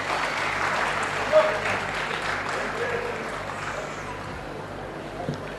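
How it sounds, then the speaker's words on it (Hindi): Steady, sustained applause from a seated audience at a journal launch ceremony in Cuttack, Odisha, with dense clapping filling the room evenly throughout and a couple of louder individual claps standing out. "आपण मानकर विपुल करताली ए मुहूर्त को अधिक स्मरणीय रखिब"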